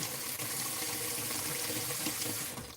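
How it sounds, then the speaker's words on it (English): Steady, loud tap water pours into a sink while hands are wet, a continuous close splashing rush that cuts off at the end. "So I just wet my hands a little bit."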